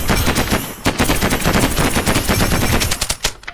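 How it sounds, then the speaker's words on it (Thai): A money-shooting gun in the video game Miniworld fires rapid bursts of sharp, evenly spaced shots. The shots are loud and close, with no voices over them. "เหมือนเป็นปืนแบบยิงเงินน่ะ"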